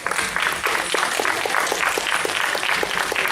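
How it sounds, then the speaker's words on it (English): At a Scifi Wales convention, an audience claps steadily as guests Laurie Goode and Mel Pickup walk on stage for a Star Wars Q&A panel, sustained applause without talk over it. "Round of applause"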